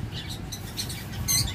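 Small cage birds, including doves, chirp in short, bright bursts at a bird shop, soft and fairly distant over a low, steady room rumble.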